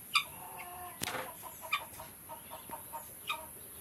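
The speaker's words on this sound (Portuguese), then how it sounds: "Tá ali as galinhas de Angola, o casal," A pair of guinea fowl feeding give short, sharp clucking calls spaced irregularly, fairly close and moderately loud against a quiet farmyard background, with one brief knock partway through.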